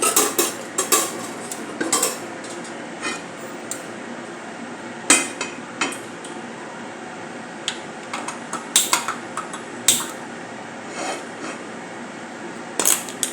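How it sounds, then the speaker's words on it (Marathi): An iron tawa for bajra bhakri is set on a gas stove to heat, with scattered sharp metallic clanks and knocks close by over a quiet background. "आता एकीकडे आपण तवा तापण्यासाठी ठेवूया"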